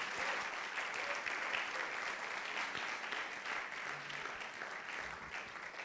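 A church congregation at an Easter sermon applauds steadily for several seconds, a dense, continuous clapping that stays even in level throughout.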